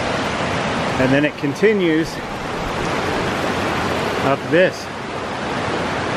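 Spring runoff water rushes steadily along a canyon hiking trail, a broad, constant roar close by, while someone speaks briefly over it.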